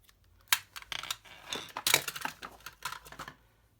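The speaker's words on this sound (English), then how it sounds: "So I'll just cut a bit of this twine." Scissors snip through a length of twine close by, a quick run of crisp, irregular clicks and cuts that stops abruptly.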